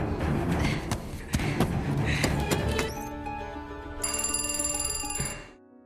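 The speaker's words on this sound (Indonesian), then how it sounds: "tiba-tiba telepon pun berdering" A telephone rings with bright, repeated electronic tones that start partway through, over a busy mix of clattering noise and music before fading out.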